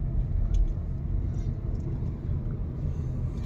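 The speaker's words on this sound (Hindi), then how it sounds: "सो गाइस ये है अभी फोर्थ गियर पे गाड़ी चल रही है और देखिए स्पीड इज अराउंड 40 km/h" A car engine pulls steadily in fourth gear at about 40 km/h, with upshifts made near 1700–1800 RPM. It gives a continuous low rumble with light road noise and no talk.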